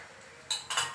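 Metal lid set onto a cooking pot of dry fish and potato, a few quick close clinks in the last half second after a quiet start.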